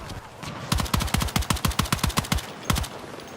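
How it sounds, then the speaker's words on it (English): Light machine gun fire in Escape from Tarkov: a steady string of about a dozen sharp, close, loud shots in a quick even rhythm, followed after a short pause by one more report. "that's an LMG if I ever heard one"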